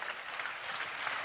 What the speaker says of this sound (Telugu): చప్పట్లు కొడుతూ స్తోత్రాలు చెప్పు